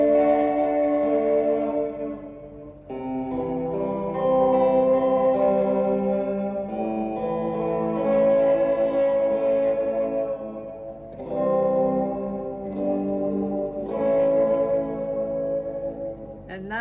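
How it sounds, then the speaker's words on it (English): Guitar run through a Fender Reflecting Pool delay pedal in digital room mode: sustained, chorused chords with smeared echo tails and roomy reverb washing between strums, loud and continuous with no talking. "I'm turning back on the delay, and let's hear how it sounds on digital."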